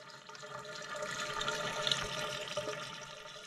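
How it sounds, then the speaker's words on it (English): Soft, steady trickle of running water into a small water trough, continuous and close, with a faint splashy texture throughout. "little water trough making some noise"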